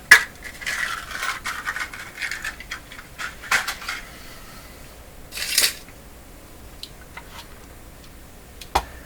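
Small metal screws from a Canadian Admiral 5E38X clock radio clink and rattle into a screw cup, giving a string of sharp close ticks and scrapes with short pauses between them.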